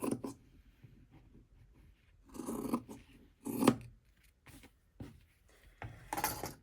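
Scissors snip through fabric for a journal cover in a few separate bursts of cutting, close and moderately loud, with quiet pauses between them.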